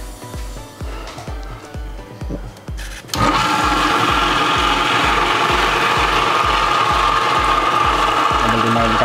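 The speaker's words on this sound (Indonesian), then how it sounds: "kita akan mixer kembali dengan separuh adonan tadi" An electric hand mixer starts up loudly partway through and whirs continuously while beating a batter, a steady high motor drone over a repeating low rhythmic thump.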